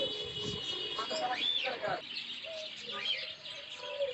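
Cockatiels in a Dhaka bird market at Katabon, several bright rising chirps and whistles scattered over a few seconds, with someone talking alongside.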